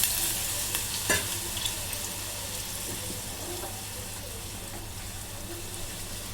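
Water tipped into a pot of hot oil for a Maharashtrian white mutton broth, giving a steady, moderately loud sizzle and hiss that stays fairly even throughout, with a sharper burst near the start.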